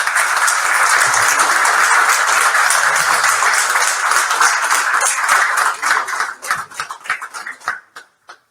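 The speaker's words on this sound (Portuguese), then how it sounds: "Quero pedir um aplauso simbolizando esse trabalho" Sustained applause from an audience honouring retired cod fishermen at a gathering in Fuzeta, Portugal, dense and steady for about six seconds before thinning into scattered, fading claps.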